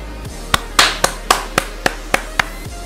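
In the game Youtuber's Life, an evenly spaced run of about eight crisp claps sounds over a low steady hum, each one a sharp isolated smack without any speech.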